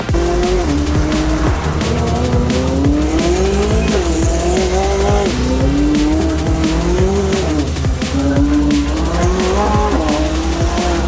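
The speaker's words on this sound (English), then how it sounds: "It's 570S. I've been in these before, and they are quick. But even though it's losing loads of traction, it's surprisingly planted." A McLaren 570S accelerating hard on an unrestricted autobahn while losing traction, its engine note loud and close, climbing and dropping through repeated gear changes under a constant roar, with no speech.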